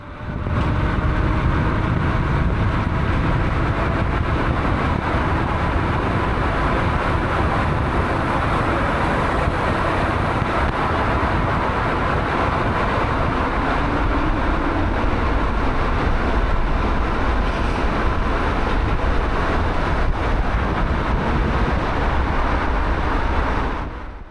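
Kukirin G2 Master electric scooter ridden at top speed on a road, a loud constant roar of wind buffeting and rolling noise with no pauses, close and continuous throughout.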